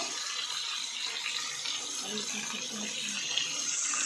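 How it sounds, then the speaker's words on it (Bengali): Water splashes and gushes steadily into a pan of vegetables and hilsa fish, a close, continuous pouring rush that fills the whole short stretch. "এখন একটু পানি দিয়ে দিব"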